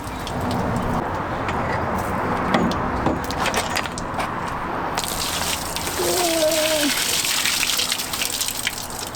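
Liquid gushes steadily through the radiator of a BMW M3 drift car under rebuild, a continuous splashing flow with a brief squeaky tonal note partway through.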